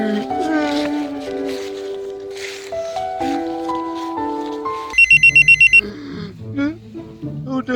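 A mobile phone sounds a short, rapid electronic text-alert tone after several seconds of melodic musical notes, followed by brief musical blips.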